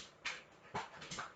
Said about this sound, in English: I had to let my dogs out.